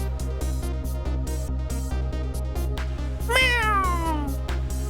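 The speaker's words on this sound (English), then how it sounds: "Kitty cat! That's the cat that was gonna poop on me!" A cat meows in the video game Ghost Trick: Phantom Detective, a single rising-then-falling call heard over steady rhythmic game music, with no talking.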